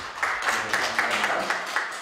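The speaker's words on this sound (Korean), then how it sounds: "박수 한번 쳐주세요" Applause from the audience at a Korean church leaders' invitation and MOU signing ceremony in a hall, with rhythmic clapping that swells in steady pulses and stays moderately loud throughout.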